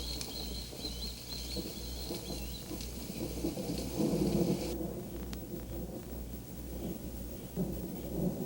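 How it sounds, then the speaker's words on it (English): Summer thunderstorm in the Everglades: a steady low rumble of thunder rolls under constant rain hiss, with faint bird calls scattered through and a swell in intensity midway. "a storm blew in from the Caribbean, and the summer rainy season made a dramatic start"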